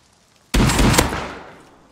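A sudden, close burst of gunshots in the video game Rust hits hard, then trails off into a ringing echo lasting about a second, with no talking.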